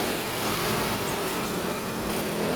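Heavy road traffic on C5 in Taguig makes a dense, continuous broadband rumble and hiss of many vehicles, moderately distant, with no distinct single pass-bys and no talk.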